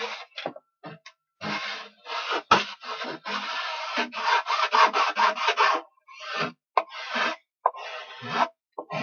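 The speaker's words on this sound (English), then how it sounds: "First we will file" Wood filed by hand with a file on a DIY chuck box for camping, a close, dry rasping in uneven bursts of short strokes separated by pauses.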